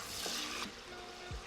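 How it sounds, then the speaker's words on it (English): Melted butter with fresh lemon juice squeezed in sizzles in a frying pan for butternut squash and gnocchi, a faint, steady crackle with light stirring and no talking. "Now that this is like all sizzling and together"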